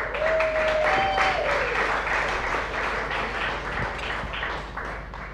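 An audience at a chef showdown cooking event applauds, producing loud, sustained clapping that fills the room and slowly tapers off, with no talk over it.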